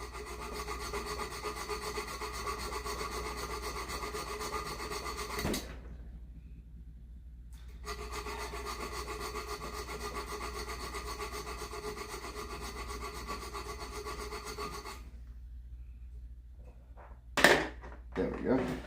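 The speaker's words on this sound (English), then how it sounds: "I think I'm going to make that center gouge right there a little deeper." A hand tool scrapes and rasps into a wooden hatchet handle to deepen a center gouge, long steady strokes broken by two short pauses, close and clear, with a brief knock near the end.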